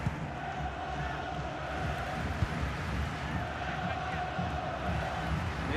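Football stadium crowd in the FC Mobile video game, a dense, continuous roar of many voices late in a close match, with a commentator's voice talking over it.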